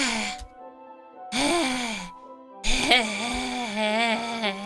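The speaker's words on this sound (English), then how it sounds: "It sounds like breathing, but like the most fucked up kind of breathing I've ever heard." Heavy, strained breathing in the Doki Doki game, drawn-out moaning breaths in three long pulls with short silent gaps between them, loud and close.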